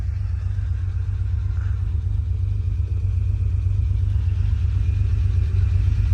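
A 1974 Porsche 911 Targa Turbo engine runs steadily with a deep, loud, close rumble and even low throb, no voices.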